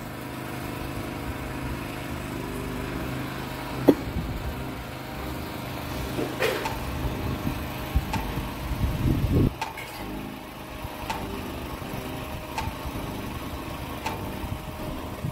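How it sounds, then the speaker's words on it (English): A portable generator chugs steadily at a home building site, a mid-pitched engine drone running throughout at moderate distance with occasional clunks and knocks over it. "we not about to start the generator here?"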